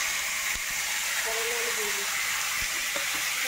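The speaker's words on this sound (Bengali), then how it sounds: "এইদিকে আমি টমাটোমটা ফোড়ন দিয়ে দিচ্ছি।" Chopped tomato sizzles as it is tempered in hot oil in a Bengali home kitchen, a steady soft hiss of frying with a few faint knocks, and a voice briefly under it.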